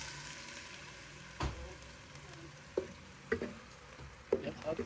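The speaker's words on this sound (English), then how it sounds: "I just have to add the egusi to this oil." Egusi goes into hot oil and sizzles softly and steadily, with a few close clicks and scrapes of a utensil against the pot.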